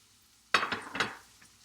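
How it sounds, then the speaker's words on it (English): Onions and garlic sweating in butter in a pan: a sudden burst of sizzling with a few stirring scrapes that fades back to a quiet hiss, alone and close by. "my onions and my garlic are all nicely sweated with the butter"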